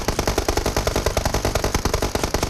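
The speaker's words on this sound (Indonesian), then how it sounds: "Ada orang tembak tuh" Automatic gunfire in PUBG Mobile, a steady rapid stream of loud close shots running unbroken through the whole stretch, with no talk over it.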